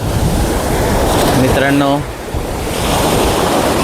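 Ocean waves wash steadily onto Marina Beach in Chennai, a loud, continuous rushing surf with wind noise on the microphone, while someone speaks briefly over it.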